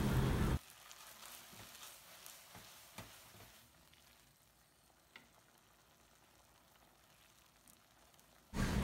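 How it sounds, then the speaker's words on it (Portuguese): Chicken, sun-dried tomato and arugula risotto stirred in a pan as broth goes in a little at a time: a soft, steady bubbling sizzle with faint scraping, close and quiet, with louder bursts at the very start and end. "E a gente vai adicionando caldo, mexendo."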